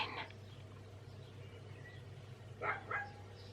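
Small white dogs barking at a distance, one short yap at the start and a quick pair of barks near the end over a faint low hum.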